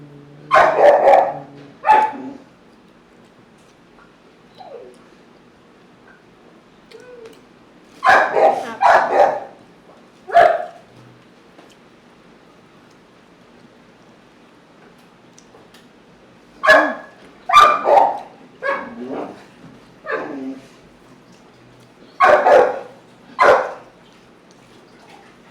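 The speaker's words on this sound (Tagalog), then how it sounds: "Pasensya na yung maingay na aso guys." A noisy dog barks in repeated bursts of two to four loud, close barks separated by quiet gaps.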